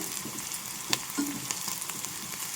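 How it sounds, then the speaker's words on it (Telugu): Cut green chilli pieces frying in hot oil as they are turned in the pan, a steady low sizzle with a few light clicks and scrapes of stirring, close up and without voices. "ఇప్పుడు కట్ చేసి పెట్టుకున్న పచ్చిమిరపకాయ ముక్కలు వేసేస్తున్నాను చూడండి వీటిని అటు ఇటు తిప్పుకుంటూ చక్కగా ఫ్రై చేసుకోవాలి"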